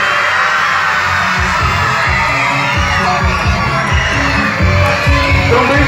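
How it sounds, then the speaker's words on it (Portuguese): A crowd of children at a live Mickey Mouse Clubhouse stage show in Inúbia, Bahia, shouts and screams loudly and keeps going without a break. A deep, throbbing music beat pulses underneath. "Quem gosta do Homem da Aranha dá um grito"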